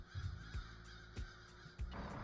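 Crows caw in the Arctic Trucker Simulator game, giving about five harsh, separate calls at uneven intervals over a low, constant background hum.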